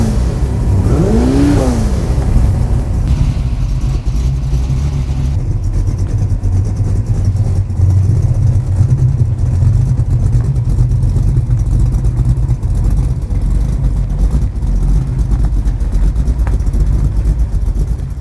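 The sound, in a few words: V8 car engine revving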